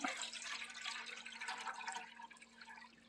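Liquid pours steadily into a bucket during home beer brewing, a faint, continuous splashing trickle with a faint steady hum.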